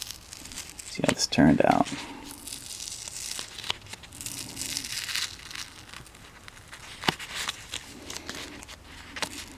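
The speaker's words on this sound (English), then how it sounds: "So let's take the masking tape off" Masking tape peeled off paper around a watercolor pencil painting, with crinkling and tearing bursts that start loud, then smaller rustles and crackles continuing, while a voice speaks briefly over it.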